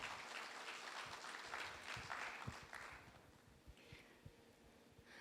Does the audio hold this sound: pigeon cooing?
no